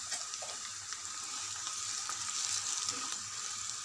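Onions sizzle and fry steadily in a pan with turmeric stirred in, a continuous soft crackle that stays even and fairly quiet throughout, with no talking.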